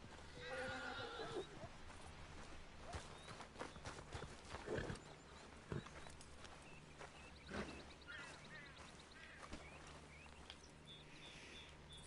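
In Red Dead Redemption, a horse whinnies near the start, then clip-clops of hooves and a few sharp knocks follow, sparse and fairly quiet over a low steady game ambience.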